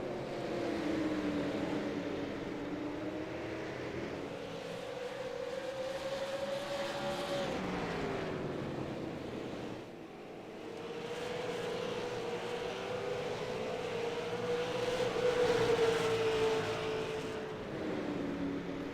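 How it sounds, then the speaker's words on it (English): Super late model race cars in a sim racing video game drone around the track, a faint engine note that swells and dips as they work through the turns. "Brett Haney, he's got about a half-second advantage diving into turns 3 and 4"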